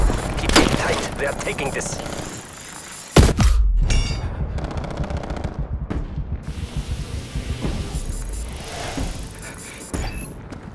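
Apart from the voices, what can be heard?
incoming artillery explosions in Call of Duty Cold War video game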